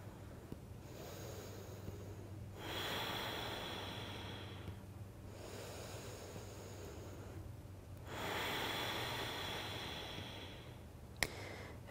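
Slow, deep breaths during a yoga stretch, each inhale and exhale drawn out over several seconds in a quiet room, close and soft, with about four breath cycles.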